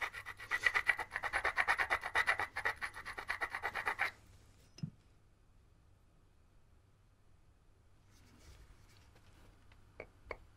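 A flint core's platform edge rubbed with an abrading stone before blade knapping, a rapid rhythmic scraping for about four seconds, close, then quiet with a few faint clicks.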